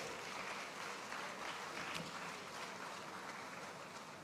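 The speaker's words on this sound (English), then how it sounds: "Please, a round of applause." Faint, distant applause from an audience at an opening ceremony in a large hall, a steady wash of clapping with no voices.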